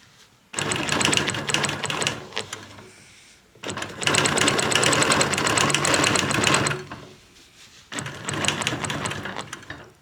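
Sewing machine quilting with a Squiggy ruler, stitching in three close bursts of rapid mechanical chatter separated by short pauses.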